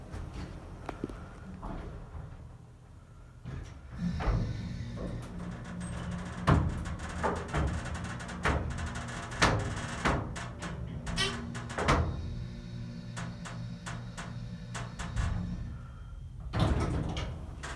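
A creaky Dover Impulse hydraulic elevator at Riverpoint Village in Fox Point, Wisconsin runs with a low steady hum, its doors sliding and thunking with clicks and creaks scattered throughout, close and fairly loud.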